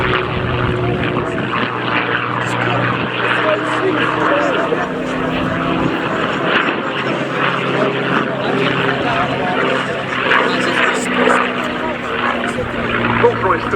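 A propeller-driven P-51 Mustang with a Rolls-Royce Merlin engine drones steadily at the RAF Cosford Airshow, a continuous mid-distance engine roar under ongoing commentary.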